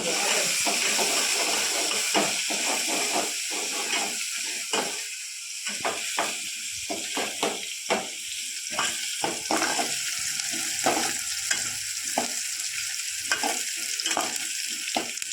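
Garlic sizzling and roasting in a pan for a Konkan jackfruit bhaji, a steady close frying hiss broken by stirring scrapes and clicks throughout.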